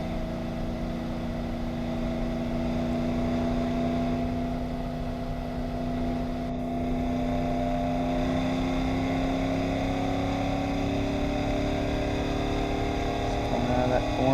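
A race car engine drones steadily as the car coasts around a track corner with the throttle easing off. The engine note holds fairly constant and slowly rises in pitch while someone talks over it.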